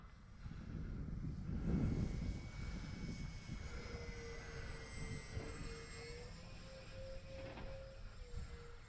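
The electric motor and propeller of a Dynam Grand Cruiser V2 RC model airplane on a 3S battery whine steadily and faintly through the air, with a thin tone that rises slightly in pitch as it passes.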